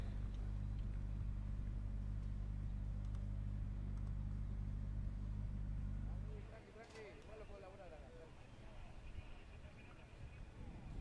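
TCR touring race cars sit idling on the grid at San Juan Villicum, a heavy close engine rumble that drops away abruptly partway through, leaving lighter mechanical clatter and distant engine noise.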